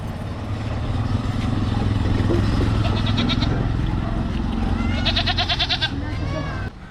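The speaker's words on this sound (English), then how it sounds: "This is the home of Mr. Tamir, and these are his goats." Goats bleat in a home set inside a Cairo cemetery, two clear bursts of wavering bleats close by, over steady background rumble and nearby voices.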